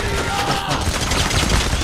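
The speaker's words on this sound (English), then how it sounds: "I'm getting shot." Gunfire in the video game PAYDAY The Heist during a co-op heist, loud sustained automatic bursts over noisy game action with no pauses.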